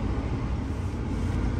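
A Dodge Charger out on a test drive, its cabin filled with a steady low road rumble and engine drone, a continuous muffled hum at moderate level with no speech.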